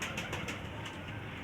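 Pigeons kept by a Pakistani pigeon fancier coo steadily and close by, with soft repeated calls over a busy outdoor background and no talking.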